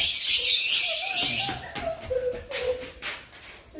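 Caged birds, including parakeets, in a breeding aviary in a cold area: a busy high-pitched chirping chatter up front, then scattered whistles and calls with soft shuffling.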